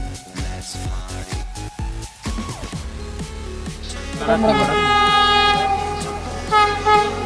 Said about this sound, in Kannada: ಈ ಒಂದೇ ಭಾರತ್ ಟ್ರೈನ್ ಬರ್ತೈತೆ